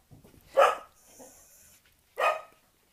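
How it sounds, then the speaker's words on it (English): A dog barks twice indoors, two sharp, moderately loud barks about one and a half seconds apart, with a faint whine or soft noise in between. "That was the dog making an entry."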